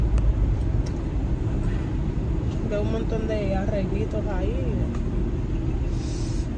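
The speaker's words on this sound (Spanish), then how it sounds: "no entiendo por qué tanto carro a esta hora." Busy street traffic with many cars passing, a continuous loud rumble of engines and tyres close by, with someone speaking over it.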